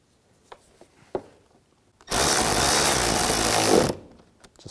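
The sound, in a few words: screws being driven back in on a VW Jetta mirror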